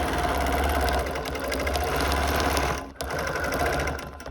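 A sewing machine stitches pieces of a flowering prism quilt, its rapid steady motor running close and loud for nearly three seconds, pausing briefly, then resuming.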